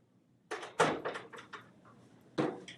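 A classroom door opens and closes as someone enters, producing a series of soft knocks and clunks of the handle and frame, then a final thud about two seconds later, all at moderate distance without speech.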